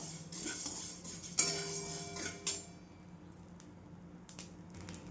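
A metal spoon scrapes and stirs roasting fasting flour grains (varai) with cumin in a pan over a low gas flame, with two sharp clinks early on, then softer rustling and scraping.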